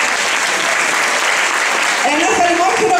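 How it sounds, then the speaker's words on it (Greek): Warm applause from a concert audience for a children's choir fills the hall, dense and steady from start to end, with a voice speaking over the last second. "Ένα θερμό χειροκρότημα για τη χοροδία μας."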